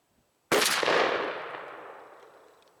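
A Stevens 301 20 gauge shotgun fires a single Rocky Ridge 3-inch TSS #9 shell, one sharp close blast after a brief quiet that rings out and decays slowly over about two seconds.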